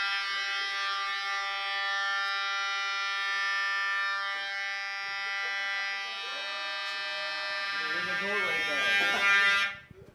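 A school fire alarm blares a loud, continuous buzzing tone that holds steady, with people talking and moving faintly underneath toward the end before the tone suddenly cuts off.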